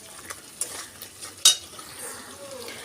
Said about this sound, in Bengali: স্বাদ মতন লবণ এবং সামান্য চিনি দিয়ে দেবো। দিয়ে মশলাটা ভালো করে আমি কষিয়ে নেব।